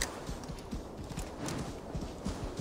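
Horse hooves clip-clop steadily at a walking pace in Assassin's Creed Valhalla on PC, a close, continuous run of soft thuds with no voices.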